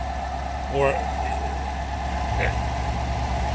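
A car engine idles steadily at a low, even hum, close by and continuous, with an RPM tester hooked up through an inductive pickup.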